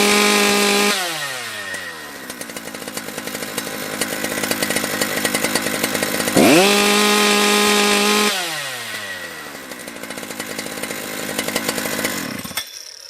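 A modded Husqvarna 3120XP chainsaw revving hard at full throttle, loud and close, with the engine screaming up to a sustained high pitch, dropping back briefly, then surging again in repeated bursts before cutting off.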